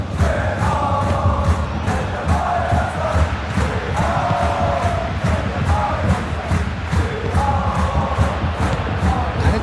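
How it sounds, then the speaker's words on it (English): A stadium crowd in an eFootball PES 21 match of Bayern Munich against PSG chants loudly in a rhythmic, repeating pattern, a dense roar that swells with each chant and holds steady throughout. "The crowd are calling for this to be put to bed."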